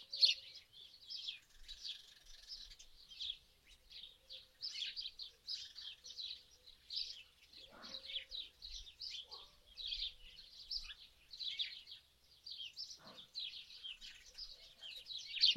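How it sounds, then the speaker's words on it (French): Birdsong outdoors: steady, continuous high-pitched chirps and twitters from several birds, fairly faint and distant, with no one speaking. "Toute votre attention sur le chant des oiseaux au dehors."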